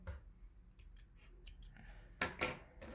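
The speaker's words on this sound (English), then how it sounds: "from here, you're going to make a chain of 1 and cut your yarn" Scissors snip through crochet yarn close by, with several light clicks of the blades opening and closing and then two louder cuts near the end.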